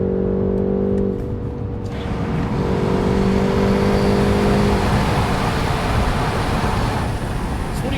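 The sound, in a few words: BMW 530i xDrive engine sound in sport mode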